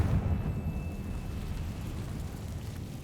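A Confringo fire spell bursts into a deep, rumbling explosion in the Hogwarts Legacy video game, loud at the start, then decaying into a crackling, roiling rumble that carries on for several seconds.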